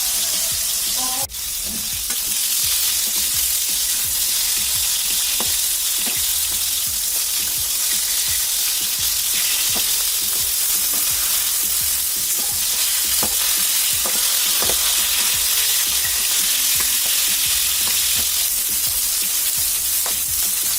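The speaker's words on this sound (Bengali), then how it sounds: "মাছটা আমি একটু একটু ভালোভাবে লাল লাল করে ভাজি করে নিয়েছি।" Large pieces of a big fish, around 17 kilograms, frying until reddish-brown in hot oil, giving a loud, dense, unbroken sizzle with occasional faint clicks from handling.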